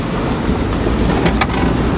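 A Honda Del Sol is driven just after its fuel pump was replaced, a loud steady engine and road rumble from inside the car, with no talk.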